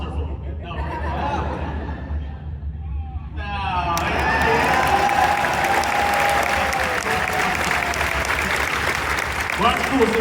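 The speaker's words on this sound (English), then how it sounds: "That was a little applause there for you." Audience applause at a Spider-Man 65th anniversary fan panel, starting quietly and swelling after a few seconds into loud sustained clapping with cheers and some chatter and laughter through the crowd.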